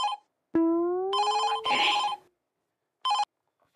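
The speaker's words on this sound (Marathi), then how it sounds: "फोन वाजतोय ग, फोन घे." A landline telephone rings in a bright, electronic trill, sounding in several distinct bursts separated by short silences, close and clear in a quiet indoor setting.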